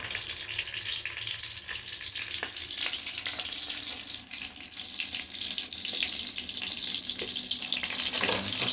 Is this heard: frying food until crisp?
yes